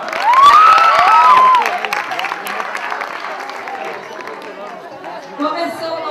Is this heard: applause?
yes